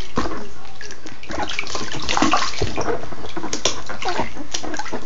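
Bath water splashing and sloshing in a tub while a child's face is washed; loud, close, continuous splashes with a few sharper splatters, and no talk.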